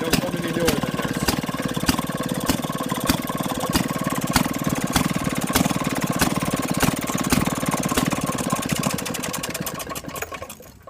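A 1937 Maytag Model 92 engine runs steadily and loudly nearby with a fast, even firing rhythm, then dies away in the final second as it is shut down.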